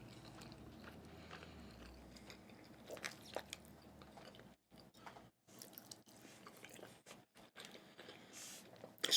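Mac and cheese chewed close to the mic, with soft wet bites and mushy mastication coming in irregular bursts between short silences, fairly quiet and with no talking.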